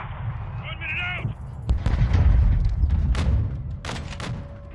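Heavy gunfire and booming artillery-like blasts from the Modern Warfare II campaign mission Hardpoint, dense and loud, rolling in repeated bursts after a brief voice at the start.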